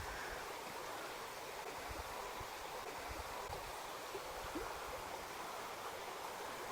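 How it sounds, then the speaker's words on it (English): A small river flows past a woodland campsite in Wales on a drizzly day, its steady broadband rushing continuous and fairly close, with no talking over it. "You've got this little river to wake up to."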